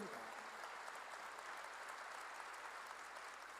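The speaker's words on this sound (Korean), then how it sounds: "박수로 하나 들으시기 바랍니다." A church congregation claps together in a steady, dense burst of applause that fills the hall, fairly even in loudness throughout.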